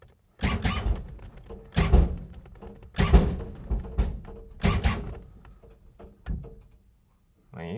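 Lowrider hydraulic suspension fed by a whammy tank moves in a series of heavy, close thumps and clunks, each followed by a low hum, repeated about five times over several seconds.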